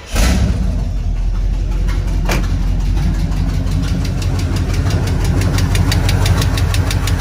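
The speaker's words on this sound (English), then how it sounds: "this rocker arm isn't moving, and this one's the one that's clattering" A Chevrolet C20 squarebody engine idles loudly and steadily up close, with a rapid metallic clatter from a loose rocker arm ticking through the running noise.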